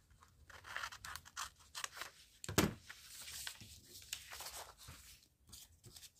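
Scissors snipping a paper journal card out of a masterboard, a run of quiet, close crisp cuts and paper scratches with one louder snip partway through, no voice over it.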